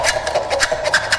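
A metal file scraping across an aluminium can, giving repeated close rasping strokes in a quick, regular back-and-forth rhythm, with no talking.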